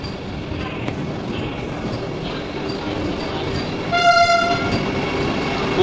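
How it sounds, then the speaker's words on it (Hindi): A Vande Bharat Express train rolls into a station, a loud steady rumble of rail cars with a sustained horn blast partway through, heard with no talking. "चलो फाइनली ट्रेन भी आ गई।"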